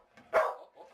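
Dog barking in a home kitchen during cooking, a single short close bark with faint small yips around it, no talk.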